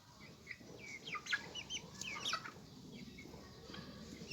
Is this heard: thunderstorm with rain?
no